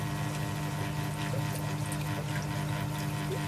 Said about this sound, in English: just give that a quick rinse out